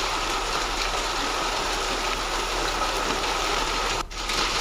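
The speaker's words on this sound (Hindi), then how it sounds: "झमाझम बारिश के साथ गिरे ओले" Heavy rain falls with hail in the Chakrampura area, a dense, steady roar of downpour that continues throughout with only a momentary dip near the end.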